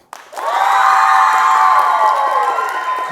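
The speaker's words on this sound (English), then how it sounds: "would you please cheer and yell and clap as loud as you possibly can" A theatre audience at a Shakespeare festival cheers, yells and claps as loudly as it can, a dense sustained roar of voices and applause that swells quickly and holds steady before easing slightly at the end.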